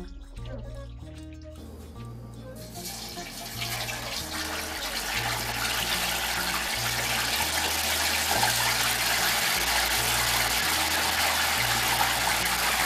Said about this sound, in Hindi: अब हम इसको, ये जो मसाला है इसको सारा वॉश करके तो नया मसाला लगाते हैं इसके ऊपर।